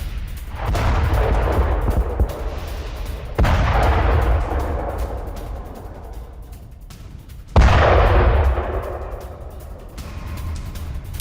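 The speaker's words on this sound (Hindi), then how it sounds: "बाखमुत में यूक्रेन का हवाई हमला, सुखोई 27 से गिराए GBU 62 बम" Heavy explosions from an airstrike with GBU-62 guided bombs dropped by a Sukhoi Su-27 over Bakhmut, three loud booming blasts spaced a few seconds apart, each with a long rumbling decay.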